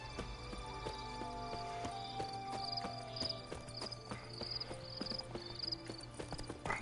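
Roach, the horse in the video game Witcher 3: Blood and Wine, clip-clops along in a steady rhythm of hooves, with faint game ambience in the background.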